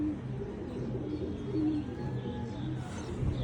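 Soft, repeated low cooing of Goddra pigeons nearby, overlapping calls in a steady rhythm over quiet background.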